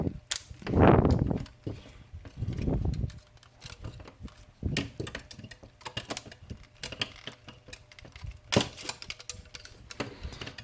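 Small plastic motor pod connectors are worked loose on an MJX X600 mini hexacopter, close clicks, rustles and scraping handling noises in irregular bursts with a couple of louder rattling pulls.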